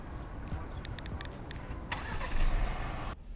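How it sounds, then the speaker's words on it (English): A 2022 Ford Explorer 2.3L EcoBoost engine cranks and catches, then settles into a steady low rumble, with a brief rise in revs near the end. "Let us start the car and warm up those tires."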